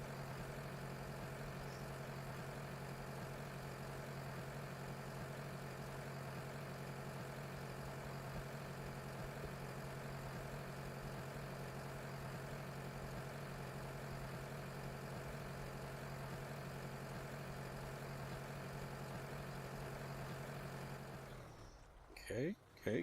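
A farm tractor engine in the video game Farming Simulator 2013 idles steadily with a low, constant drone for about twenty seconds, then fades and shifts briefly near the end; faint and even throughout.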